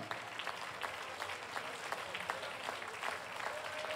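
An audience at a horse show applauds to call the riders and horses back, a fairly faint, steady patter of many hands at a distance.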